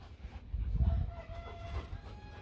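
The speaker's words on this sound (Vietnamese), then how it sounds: "Đấy, bên kia bức tường là con gà." Free-roaming farmyard chickens on the other side of a wall: a rooster crows once at moderate distance while hens cluck, over a low rumbling background and no talk.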